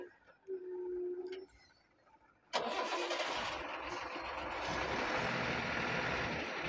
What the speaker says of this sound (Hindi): लेकिन गाड़ी बार बार बंद क्यों पड़ रही है मालूम नहीं मुझे